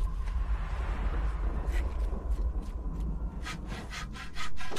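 A saw cutting through wood in the World War I game Valiant Hearts, heard as a steady, close, rough rasping with repeated back-and-forth strokes that grow sharper and more distinct toward the end.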